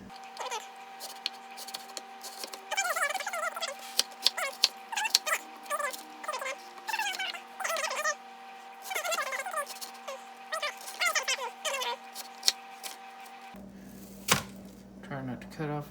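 A knife rough-chops an onion on a board, giving scattered sharp knocks under a person talking throughout.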